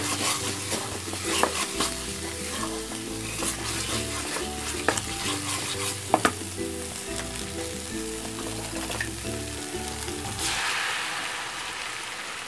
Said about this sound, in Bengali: এর মধ্যে দিয়ে দেবো গরম জল।